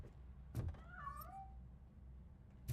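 A cat in RoboCop: Rogue City bolts out of a piano with a short rising-and-falling meow, framed by a couple of bumps and thuds from the game.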